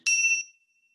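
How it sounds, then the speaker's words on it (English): A single bell struck to open a meditation gives a bright, clear ring with a sharp onset, sustaining briefly before fading quickly into silence; no one speaks. "I'm going to use the bells to start and to end"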